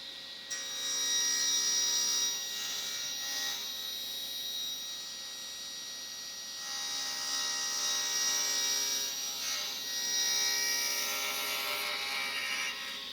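A table saw ripping wood along a parallel rip fence, a loud, steady high-pitched whine with a droning hum that swells and eases as the board feeds through, with no talking.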